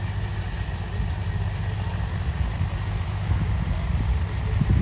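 A Mahindra Arjun tractor engine runs at a steady idle-like rumble, low and continuous throughout with a slight rise near the end, close by and alone.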